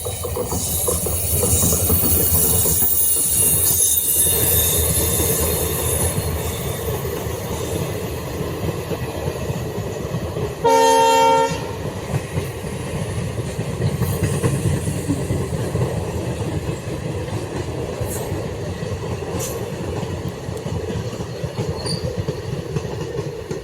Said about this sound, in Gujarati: અત્યારે રેલગાડી આવવાનો ટાઈમ છે તો હું તમને બતાવું અહીંયા બાજુમાં પાટો છે